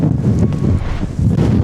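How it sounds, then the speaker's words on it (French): Strong wind buffets the microphone on a beach in Iceland, a loud, rumbling low roar that surges and dips in gusts throughout, with no voices over it. "il y a vraiment du vent"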